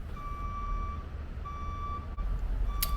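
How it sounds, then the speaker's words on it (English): Reversing beeps from a dump truck loaded with about 5 tons, several evenly spaced single electronic beeps at a moderate distance over a steady low engine rumble. "let's load up the dump truck with about 5 ton and use wheel compaction"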